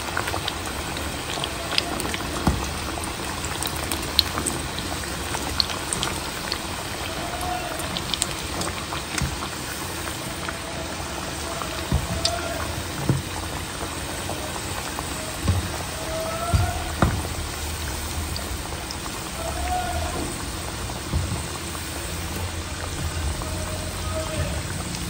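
A snack deep-frying in hot oil until crisp, a steady bubbling hiss with scattered pops and crackles running throughout, close and moderately loud with no talking.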